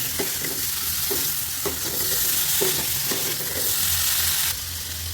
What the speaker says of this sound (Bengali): হলুদের গুঁড়া, মরিচের গুঁড়া, জিরা, গরম মশলা দিয়ে এখন নাড়তে হবে